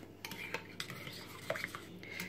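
A spoon stirs yeast into brioche dough ingredients in a bowl, giving soft scraping with a few light clinks against the side, close and quiet.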